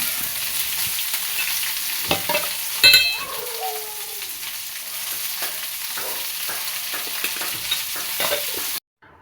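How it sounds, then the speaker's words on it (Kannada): Ridge gourd stir-frying in a pan, a constant close sizzle broken by scraping and stirring knocks from a spatula, a brief clatter near the start, then cutting off abruptly at the end. "ಹೀರೆಕಾಯಿ ಒಂದು ಸ್ವಲ್ಪ ಫ್ರೈ ಆಗುತ್ತೆ ಅಲ್ಲಿವರೆಗೂ ಚೆನ್ನಾಗಿ ಮಿಕ್ಸ್ ಮಾಡಿಕೊಂಡು ಹುರ್ಕೊಬೇಕು"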